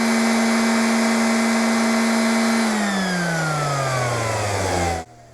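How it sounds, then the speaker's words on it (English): A random orbital sander with a broken brake, its pad spinning out of control: a loud, steady motor whine that drops in pitch as it winds down over several seconds, then cuts off abruptly near the end. "At this rate of rotation, the sander no longer works as intended"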